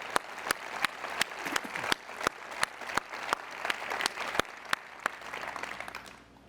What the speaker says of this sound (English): Let's give these amazing leaders a round of applause.